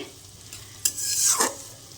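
KFC-style fried chicken crisping in hot oil, a close, steady sizzle with a brief clatter of the pieces being stirred or turned midway, no voices.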